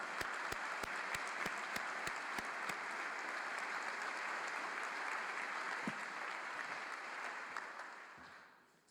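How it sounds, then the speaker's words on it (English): Audience applause at a white coat ceremony for an incoming medical school class, a broad steady wash of many hands clapping that fades out toward the end. "let's give them a hand of applause in their absence"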